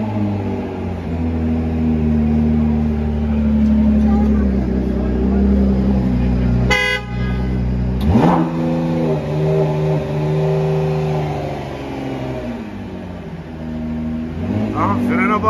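Car engine revving as the accelerator is pressed, a loud close roar that holds, drops sharply midway, then climbs and swells again, with occasional speech mixed in.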